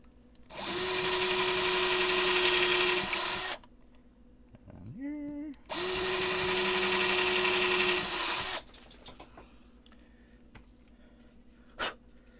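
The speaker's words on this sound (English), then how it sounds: "so I'm going to drill this." A power drill bores into a Macanudo cigar box guitar in two loud, sustained bursts of about three seconds each, separated by a short whining spin-up, with quiet handling noise afterward.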